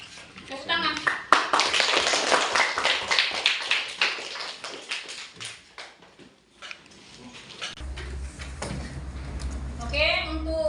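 Students in an Indonesian classroom clap their hands, uneven bursts of near taps mixed with children's voices and an adult talking, the clapping fading and returning over the span.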